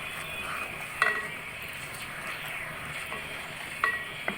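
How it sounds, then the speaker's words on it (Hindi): Cumin seeds crackling in hot melted butter in a pan, a steady, gentle sizzle with a couple of sharp clinks from a utensil against the pan. "अब मैं इसके अंदर डालूंगी ज़ीरा। ज़ीरे को हम थोड़ा सा फ्राई करेंगे।"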